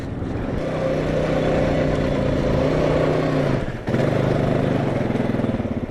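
A Suzuki LTZ 400 ATV engine, trying to lift its front wheels, revs hard and steadily up close, with a brief dip and cut just before four seconds before the throttle comes back loud.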